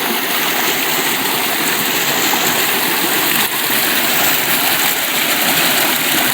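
A stream rushes steadily close by in an outdoor creek bed, a continuous broadband wash of flowing water with no break in level and no voices.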